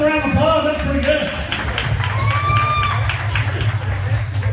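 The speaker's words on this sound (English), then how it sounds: "Let's give a round of applause." Guests at a party playing wedding games break into a round of applause, clapping and cheering mixed with someone talking, fairly loud and steady across the short stretch.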